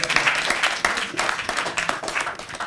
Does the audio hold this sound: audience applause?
yes